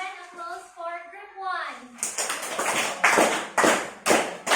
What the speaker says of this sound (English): We'll give them applause for group